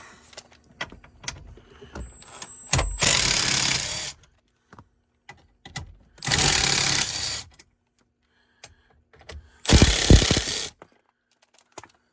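Fuse box bolts come out of a Ford F250 with three bursts of a power tool, each lasting about a second, along with clicks and small metallic handling sounds in a quiet space.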